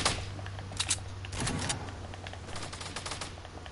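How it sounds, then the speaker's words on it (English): Rapid bursts of video game gunfire, fairly faint, popping in quick irregular clusters over a low steady background hum. "did you hear that gunshot? I heard the gunshots"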